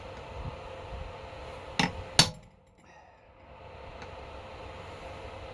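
Two sharp metallic strikes close together, a hammer driving a core plug into an Austin A35 A-Series engine block, followed by a quieter ringing decay and faint room noise.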